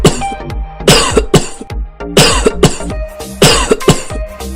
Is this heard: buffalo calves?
no